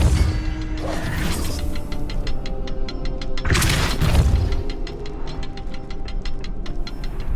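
Depulso spell cast in Hogwarts Legacy, two heavy booming thrusts with a crashing rush amid a steady game ambience of ticking mechanical clicks and a low hum.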